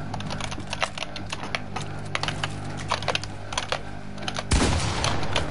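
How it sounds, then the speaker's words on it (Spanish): Rapid, loud clatter of computer keyboard keys typed continuously during Fortnite play, with dense irregular keystrokes and a brief burst of heavier noise near the end; no speech. "Estoy jugando el teclado, ¿no escucháis las teclas?"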